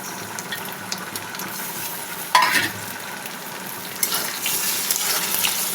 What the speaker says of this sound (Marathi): थोडंसं ब्राऊन शेड होऊ दे चांगलं परतून घेऊया ब्राऊन शेड होईपर्यंत